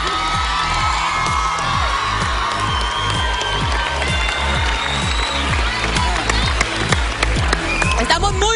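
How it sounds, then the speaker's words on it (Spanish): Studio audience at the La Banda 2015 finale applauds and cheers for a contestant as a steady rhythmic beat of music thumps underneath, with scattered whoops and shouts rising over the crowd. "Un fuerte el aplauso para Jao."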